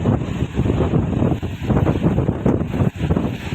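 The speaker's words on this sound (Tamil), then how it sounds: "சுற்றிலும் கடல் தான் கடல் தண்ணி தான் அதிகமாக இருக்குது காற்று ஓவராக இருக்குது" Strong sea wind roars across the microphone at Vattakottai fort by the coast in Kanyakumari, a loud, continuous buffeting rumble with gusty swells and no clear voices.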